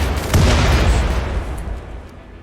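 Rocket launcher blasts striking a turret in RimWorld, a loud booming burst of explosions with heavy low rumble that swells early and then fades away over a couple of seconds.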